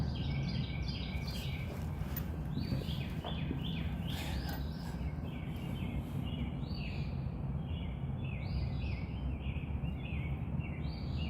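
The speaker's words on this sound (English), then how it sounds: "These birds sound really pretty, guys." Birds sing and chirp in repeated trilling phrases over a steady low rumble during a motorcycle ride in Henry County, Georgia, the calls moderately close and recurring throughout.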